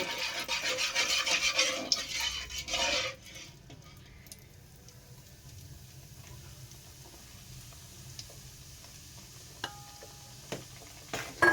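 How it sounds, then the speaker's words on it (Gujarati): A spoon scrapes and stirs flour roasting in ghee in a pan for Gujarati adadiya pak, a soft sizzle and clatter that is busiest at the start and then settles into quiet, occasional scraping and taps. "હવે આપણે લોટને ચલાવતા જશું।"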